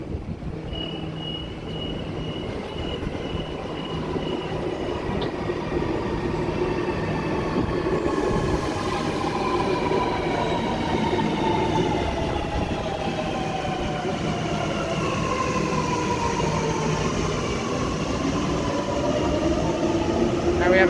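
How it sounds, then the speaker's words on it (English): A Sydney Metro train approaches platform 2 at Chatswood station, a steady rail rumble with rising and falling wheel whine building over about twenty seconds, close and continuous. "We have a metro approaching platform number 2,"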